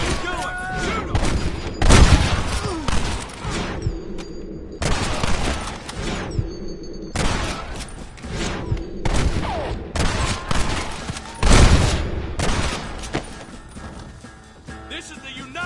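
Heavy gunfire rattles through a Red Dead Redemption battle at a gate with the United States Army, loud bursts and booming shots coming in waves while voices shout over the fighting.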